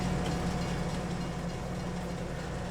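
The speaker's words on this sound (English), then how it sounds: "we'll see where the train goes this way." A train rolling along in the farming game Farming Simulator 22, a steady low rumble and dense rail noise that holds evenly throughout without pauses.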